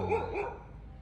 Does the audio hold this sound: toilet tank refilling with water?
no